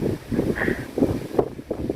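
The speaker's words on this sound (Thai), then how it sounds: "ลมพัดแรงเช่นนี้" Strong wind gusts across an open microphone beside a river, a steady rough rumble with bursts of buffeting, loud and continuous for the whole stretch.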